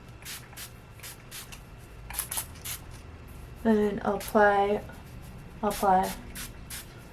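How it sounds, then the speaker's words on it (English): Color Wow Raise the Root Thickening Lift Spray hisses in short, sharp bursts aimed at hair roots, a quick series of close sprays, with someone talking briefly between them. "I just spray it at the root"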